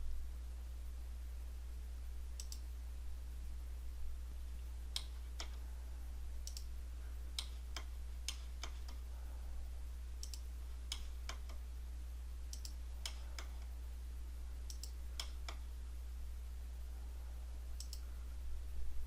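A computer mouse clicks about a dozen times in irregular sharp ticks against a quiet steady hum, while points are placed in Civil 3D road design software, with no talk.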